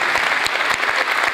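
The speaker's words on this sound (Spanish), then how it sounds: "lo vamos a recibir con un fuerte aplauso a Lea Bolmaro." Loud audience applause welcoming basketball player Leandro Bolmaro at an event, steady dense clapping with a few sharper claps standing out, continuous throughout.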